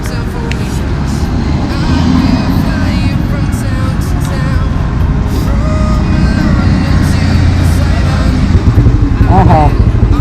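A restored Royal Enfield Standard motorcycle's engine runs loudly and steadily close by, a dense continuous thump with a voice talking over it.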